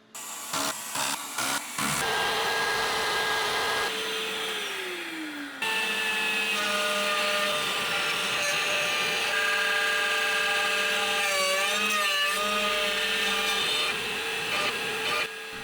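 CNC milling of a thin carbon fiber top plate for an FPV drone, a loud sustained spindle whine with shifting tonal pitches and grinding cutting noise, opening with a few sharp starts.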